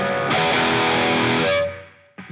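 A NuX Trident guitar processor plays a distorted rhythm chord with light reverb, struck once and held loud for about a second before fading, then a brief new attack at the end.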